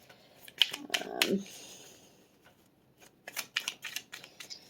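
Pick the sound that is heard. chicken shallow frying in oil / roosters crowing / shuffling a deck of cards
shuffling a deck of cards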